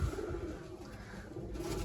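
Pigeons coo at a loft where flying pigeons are being separated from larger breed birds, a low, steady murmur of overlapping calls from several birds close by, with no talk.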